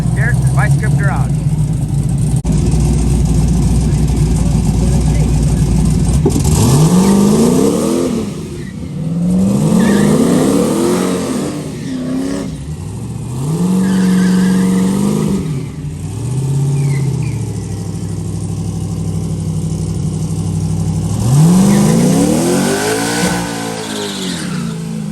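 Drag race cars launch and accelerate at a race week event, engines rising in pitch through several loud passes, with crowd and commentary voices talking over the engine noise throughout.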